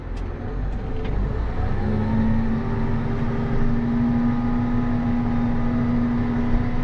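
John Deere 8270R tractor pulling forward after the clutch is released, with a steady droning engine hum and a rising whine, heard from inside the cab, constant and fairly loud, with no voices.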